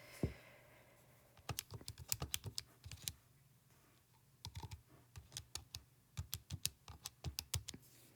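Typing on a computer keyboard, quick irregular bursts of sharp key clicks with short pauses between, close and fairly quiet.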